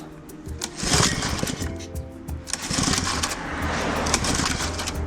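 A Honda small engine being pull-started repeatedly without firing, each sharp tug of the recoil cord a rough whirring rasp, close and fairly loud, in uneven attempts over steady background noise.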